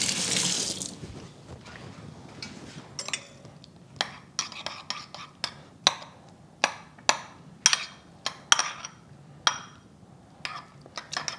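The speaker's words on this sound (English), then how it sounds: "rinse my spoon." Water runs from a kitchen tap while a spoon is rinsed, with a steady hiss and a dozen sharp metallic clinks and taps of the spoon against the sink; soft talk can be heard faintly beneath.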